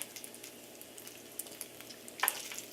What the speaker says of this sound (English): Careful, bacon grease does pop.